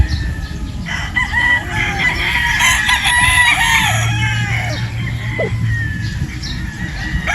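A pure Boston Roundhead rooster crows loudly and up close, with chickens clucking around it in a farmyard setting.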